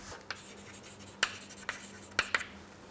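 Handwriting on a board during a technical lesson, heard as a few short, scattered scratchy strokes with quiet pauses between them, faint and close, with no voices.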